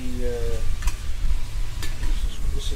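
Pad see ew noodles with chicken stir-fry in a pan, a dense, steady sizzle close by, with a couple of soft scrapes from the utensil and a faint voice in the background.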